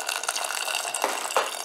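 Hot water from a freshly boiled kettle pours in a short, soft splashing stream, with faint gurgling surges near the end; no voices.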